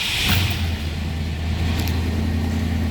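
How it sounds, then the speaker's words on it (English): A 1968 Ford XL Fastback engine catches and settles into a steady, close mid-range running note with a slight rise in revs, loud and continuous with no talking. "We'll go ahead and fire this up now"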